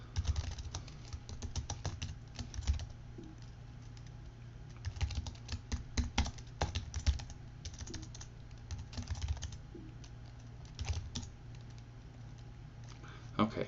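Rapid computer keyboard typing in bursts of clicky keystrokes with short pauses between, close and fairly loud, no one speaking.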